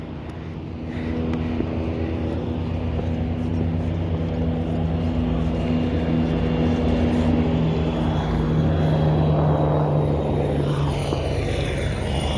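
Helicopter flying past on a mountain pilgrimage track in Amarnath, a steady loud rotor and engine drone that holds throughout and swells slightly toward the end, with no talk over it.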